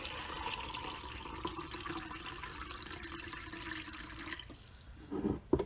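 Filtered water runs from a pitcher into an Instant Pot holding beef bones for bone broth, a faint steady trickle and pour lasting several seconds before stopping, followed by a couple of soft clunks.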